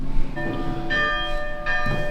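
A large church tower bell tolling twice with a ringing, sustained tone, heard amid faint wind and background rumble, no talking.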